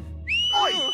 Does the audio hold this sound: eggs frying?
no